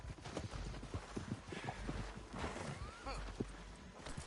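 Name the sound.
horse hooves clip-clopping, from a video game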